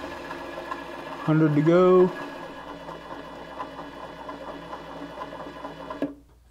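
A pickup winding machine winds wire onto a guitar pickup from a 1963 Fender Stratocaster, producing a continuous, even mechanical hum throughout, with a brief louder surge early on and someone speaking over it.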